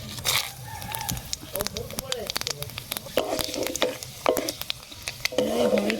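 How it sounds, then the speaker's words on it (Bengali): Dried red chillies, Bengali five-spice and bay leaf crackle and sizzle in hot oil in a kadai while bitter gourd shukto is cooked. The frying is loud and steady with popping bursts and stirring scrapes, and a voice talks over it. "কড়াইতে আবার দিয়ে দেবো তেল। ফোড়নে দিয়ে দেবো শুকনো লঙ্কা, 5 ফোড়ন আর তেজপাতা।"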